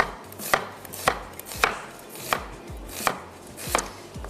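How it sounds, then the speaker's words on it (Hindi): A knife slices two medium onions on a board, each cut landing as a crisp, close thud in an even rhythm of about eight strokes at roughly half-second intervals, with no talking. "मैं यहाँ से ले लेती हूँ 2 अदद दरमियाने साइज़ की प्याज और उसको कर लेते हैं स्लाइस"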